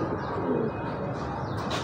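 Pigeons coo softly and continuously nearby, a low throaty burbling.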